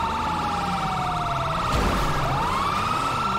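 A police car siren in the video game GTA V wails loud and close, its pitch sliding down then sweeping back up, with a brief thump of impact midway and no talk over it.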